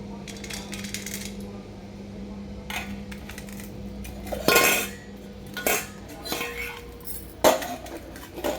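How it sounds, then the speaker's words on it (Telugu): A small child handles steel bowls and sets a lid on one. Sharp metallic clinks and clatters come close by, separated by quieter pauses, with faint background voices. "ఇంకా గిన్నె మీద మూత పెట్టుకుంటుంది."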